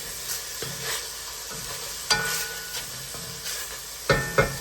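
Garlic fries in a pan for Italian sausage soup, a constant close sizzle and hiss punctuated by several scraping stirs of a utensil.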